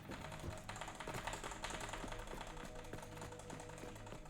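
Computer keyboard tapped rapidly by someone playing Satisfactory: a dense, fast stream of faint clicks under a steady game soundscape, close but low in level.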